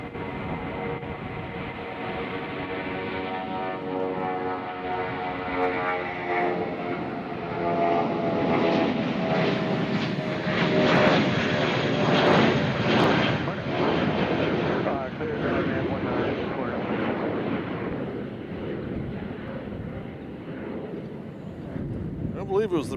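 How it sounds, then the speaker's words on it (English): A jet aircraft with Pratt & Whitney engines at Nashville International Airport, a loud, sustained engine roar that swells with rising whining tones toward the middle, then slowly fades. "I believe it was the Pratt & Whitney's making that noise"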